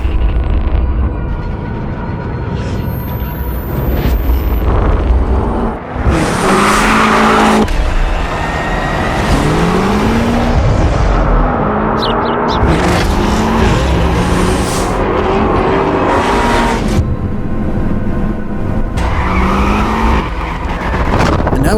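A green BMW M5 CS drifts with loud, sustained tire squeal and a roaring engine, revs rising and falling in repeated sweeps, close and continuous for about twenty seconds.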